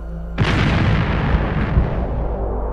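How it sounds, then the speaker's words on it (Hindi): A big explosion sound effect in a Batman vs Ironman audio drama: a sudden loud boom that bursts in abruptly, then a long rumbling roar that slowly decays over the following seconds, with no talk over it. "तभी अचानक एक बड़ा धमाका हुआ"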